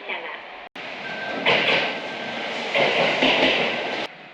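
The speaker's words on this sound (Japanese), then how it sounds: "まもなく2番線の電車" A train pulls in at platform 2 of a quiet unstaffed station near Toba, a steady rolling rumble with hissing brake and door sounds building and easing over several seconds, with a brief cut near the start.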